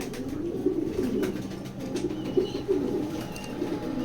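Racing pigeons in a loft, light-coloured green-toned males, give a steady low cooing murmur that rolls on throughout, with a few brief wing flutters and faint chirps in the background.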